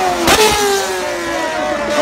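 A Formula 1 car spins through an accelerator turn on a Tokyo street, its engine wailing at high revs with rising and falling pitch sweeps, loud and close, while a commentator talks excitedly over it.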